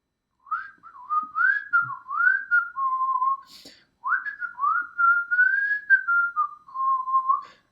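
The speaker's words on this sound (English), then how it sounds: "and began to whistle." A person whistles a lively, wandering tune in two phrases with a short pause between, clear and close, with no other sounds.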